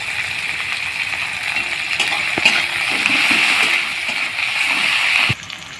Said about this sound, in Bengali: এবার টমেটো কুচি দিয়ে দেব, দিয়ে টমেটোটা ভালো করে কষিয়ে নেব পেঁয়াজের সঙ্গে।